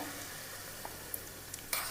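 A sugared tempering (vaghar) for nylon khaman sizzles softly in a pan on a gas flame: a faint, steady hiss with a few small clicks and pops near the end.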